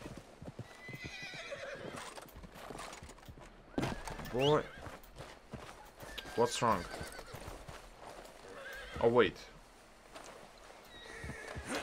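Horses whinny several times over steady clip-clopping hooves in Red Dead Redemption 2, while a person talks briefly in between.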